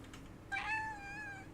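A single clear cat meow, close and moderately loud, rising then sustained, with faint tapping in the quiet background before it.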